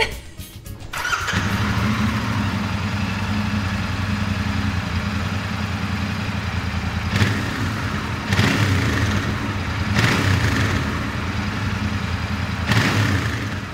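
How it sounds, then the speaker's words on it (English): A Royal Enfield Interceptor Dark motorcycle with a 270-degree crank and twin exhausts starts up and settles into a steady, throbbing idle nearby, with a few brief revs blipping above the even rumble. "I actually like the sound of this bike. I think the 270-degree crank sounds good."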